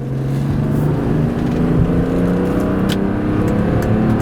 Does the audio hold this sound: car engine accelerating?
yes